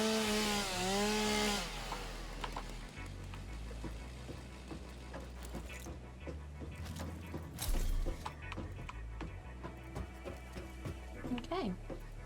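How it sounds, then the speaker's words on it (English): Chainsaw in the factory-building video game Satisfactory, a buzzing tool whine heard briefly at the start before a steady low hum under someone talking throughout. "So I'm just going to move my chainsaw back here so that I"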